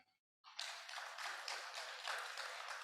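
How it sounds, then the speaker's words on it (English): Audience applause at a directors' conference opening session, a dense wash of clapping that starts abruptly after a brief silence and holds steady, heard from a distance and faint. "Please let's give a round of applause."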